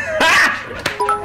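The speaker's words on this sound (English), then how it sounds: "That is a dog." A dog barks loudly and close by, a sharp yelp followed by a shorter bark and a whimpering tail, with a voice briefly underneath.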